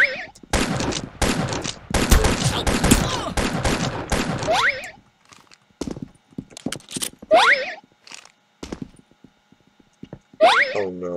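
Shots from the online shooter game Arsenal crack out in a dense burst over the first five seconds, then come in sparser bursts with gaps between them. A player's voice talks and groans over the firing.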